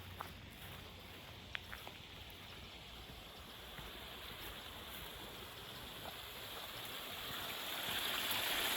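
Water spilling off a hillside as a waterfall makes a steady, broad rushing wash that swells slightly louder toward the end, with no voices.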